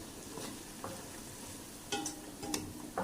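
Onion, ginger and green chilies frying in hot oil, a steady soft sizzle with occasional stirring clinks and scrapes of a spoon, close and fairly quiet, no talking.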